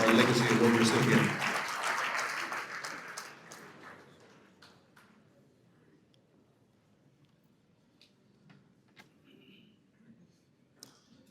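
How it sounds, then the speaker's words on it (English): Audience applause for Monty Miller, Legacy Award recipient at the California Wrestling Hall of Fame induction ceremony: a loud burst of clapping that fades away within a few seconds, followed by a quiet room with faint murmurs and scattered small sounds. "let's give one more round of applause"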